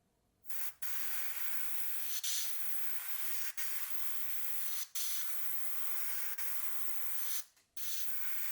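Gallery Mobius 0.3 airbrush spraying MRP matte varnish onto a 1/48 ICM MH-60L helicopter model: a steady close hiss in several long bursts, broken by brief pauses where the trigger is released.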